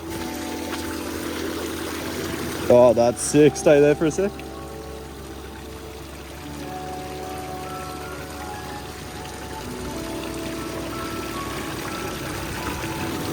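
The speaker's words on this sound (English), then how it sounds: "I might get you to do something around the water fountain, just walk around it." Water fountain at French Quarters, Gold Coast splashing steadily as a close, constant wash of water throughout, with a few short loud bursts near the start and people talking over it.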